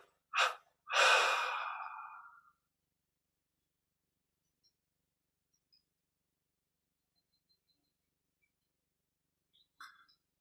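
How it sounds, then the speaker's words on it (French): Breath sounds from a Kriya Yoga meditation: two quick airy bursts followed by a longer drawn-out exhale, then near silence with a faint short breath at the end, close and soft. "Expire en 3 fois et arrêt momentané de la respiration."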